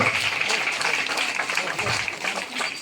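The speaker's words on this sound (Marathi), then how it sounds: "जोरात टाळ्या वाजवा" Applause from a crowd gathered at a civic felicitation in Jai Bhim Nagar, Nanded, a steady patter of many hands clapping at moderate loudness with a faint murmur of voices mixed in.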